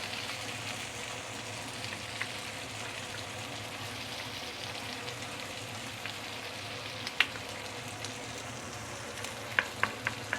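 An egg seasoned with black soy sauce fries in a pan for fried mee sua, giving a steady, soft sizzle with scattered small pops and crackles throughout and no talking.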